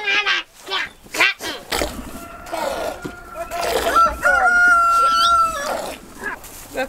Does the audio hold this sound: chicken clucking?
yes